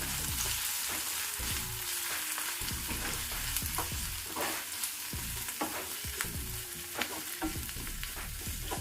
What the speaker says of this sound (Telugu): 1 నిమిషం పాటు దీన్ని వేయించుకుందాము.